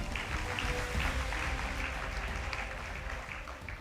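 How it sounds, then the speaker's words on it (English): Audience applause for a high school debate team at the close of an inter-school debate, a steady, dense wash of clapping held at an even level throughout, somewhat distant and soft. "A round of applause for them."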